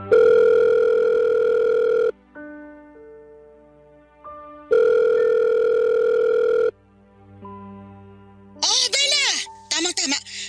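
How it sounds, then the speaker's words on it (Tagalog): Telephone dial tone sounds in two long steady bursts, separated by quieter tonal beeps, as a call is placed; near the end short warbling chirps cut in. "Tatawagan ko lang si Mama."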